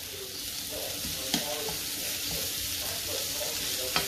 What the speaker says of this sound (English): ang ginagawa ko po na isasate lang natin to